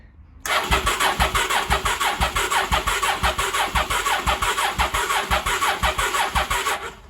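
A 1983 Honda Shadow VT750C motorcycle engine cranks over with a steady, rhythmic starter chug that starts abruptly and holds loud and close for several seconds with no talking.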